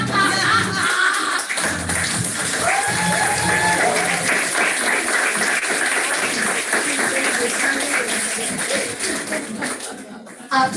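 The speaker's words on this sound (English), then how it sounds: "After that applause" Applause fills a hall at an international media summit, a steady wash of clapping that lasts about ten seconds before fading, with scattered laughter and voices mixed underneath.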